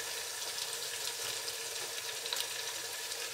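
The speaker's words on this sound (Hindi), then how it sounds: "तो यहाँ मैं इसको भून रही हूँ गोश्त को" Chicken pieces browning with onions in a hot pan, a steady dense sizzle and crackle of frying that holds evenly throughout with no voices.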